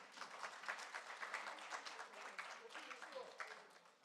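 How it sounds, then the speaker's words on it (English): Applause from an audience at a trade fair event, a steady broad wash of many hands clapping at moderate distance, sustained for several seconds with slight swells. "Can we have a clap for that?"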